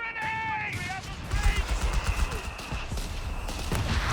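Mortar fire and gunfire in the real-time strategy game Company of Heroes 3, with a rapid cluster of thuds and bursts under a steady battle din, alongside a commentator's voice.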